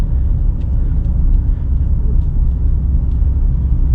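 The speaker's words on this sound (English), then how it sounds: "Hear that turbo spinning it up." A Ford F-150 Lariat's 3.5-liter turbocharged V6 revs up under acceleration in sport mode, a loud, steady low rumble heard from inside the cab with a faint turbo spooling on top.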